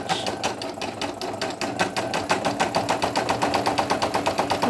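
A Brother single-needle sewing machine runs a pink satin stitch on minky fabric for a hippo appliqué, its rapid needle strokes starting loose and settling into a fast, even, rhythmic chatter, close and alone.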